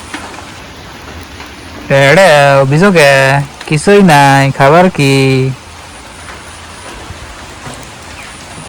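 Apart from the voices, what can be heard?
rain falling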